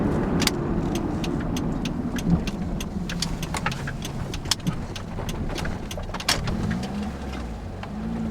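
A 2005 Saturn Vue on the road, its steady engine and tyre drone filling the cabin, with scattered clicks and light taps over the continuous low rumble.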